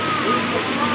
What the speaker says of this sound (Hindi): ये देखिए आर्टिफिशियल झरना बनाया गया है